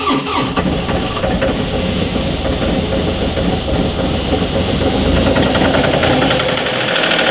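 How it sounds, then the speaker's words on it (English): A John Deere 2038R compact tractor's diesel engine cold-starts with the throttle set near 1500 RPM, a loud, steady, rough clatter that runs throughout without talk. "I've got the tractor throttle set at about 1500 RPMs."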